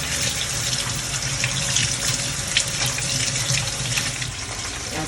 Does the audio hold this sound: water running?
yes